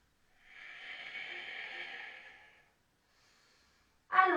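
A yoga student breathing during an Ashtanga pose, one long soft exhale lasting about two seconds, then quiet before a sharp sound starts at the very end.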